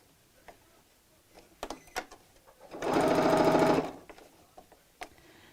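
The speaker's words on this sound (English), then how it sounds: "So I'm going to sew away from the corner" A sewing machine stitches the fabric of a tote bag in one loud burst of about a second, a rapid mechanical chatter, framed by soft clicks and handling sounds before and after.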